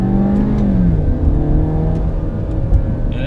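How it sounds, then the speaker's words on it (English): A Mini Cooper with a turbocharged 4-cylinder engine, about 2.0 liters, accelerates under a steady close engine drone whose pitch rises and then levels off through a shift, with no talking. "It has the turbocharged 4-cylinder engine."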